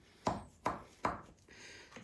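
A knife slicing slowly through buttery blueberry crumble bars, giving three distinct crunchy cuts about 0.4 seconds apart and then a softer fourth, close and fairly quiet.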